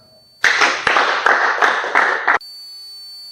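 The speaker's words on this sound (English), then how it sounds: "A round of applause to Nicole, please." An audience applauds a presentation in one dense burst of clapping that lasts about two seconds. It starts and stops abruptly, with a faint steady tone in the background.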